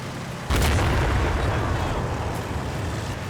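Mortar rounds land in the Combat Mission Red Thunder wargame: a sudden heavy boom hits near the start and gives way to a long, dense, rumbling roar of blasts and debris that stays loud for the rest of the stretch.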